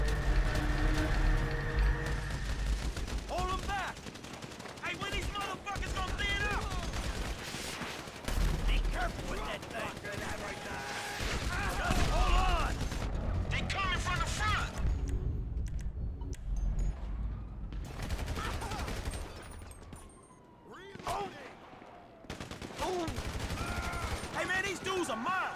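Heavy gunfire in GTA 5, with bursts of shots from many directions under frequent talking.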